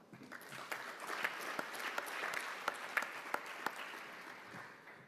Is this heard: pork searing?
no